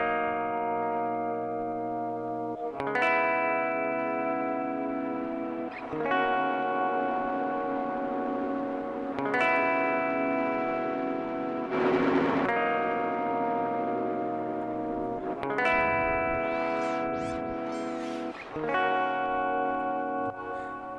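Sustained chords swelling in and out through a T-RackS 5 Space Delay tape delay with feedback, several long harmonic swells with smooth onsets and repeating echoes trailing into warbling, pitch-bending tails near the end.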